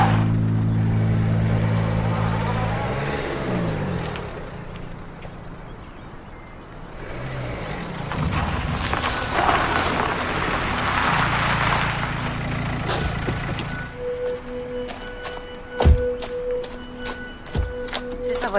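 A car driving, its engine rising and falling as it moves past at close range, with shifting road noise, a few sharp knocks and clicks near the end, and speech mixed in at times.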